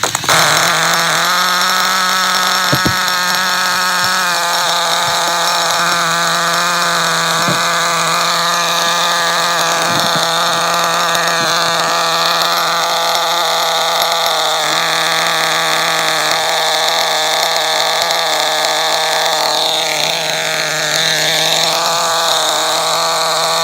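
Trinity Next 1/16 nitro truggy engine running rich, a high, buzzing whine with a few sharp clicks early on and a wavering pitch later, loud and close throughout.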